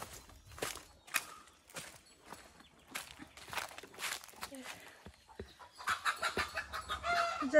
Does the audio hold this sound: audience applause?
no